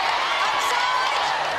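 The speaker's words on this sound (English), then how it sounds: "Well, the crowd are starting to erupt." A netball crowd at the 2016 Fast5 final between New Zealand and Australia roars with cheering and whoops, a dense sustained wall of crowd noise filling the moment.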